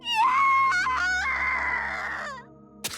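A shrill, sustained scream with wavering pitch in the game Chaos;Child rises sharply, holds, then fades, followed by a brief sharp noise.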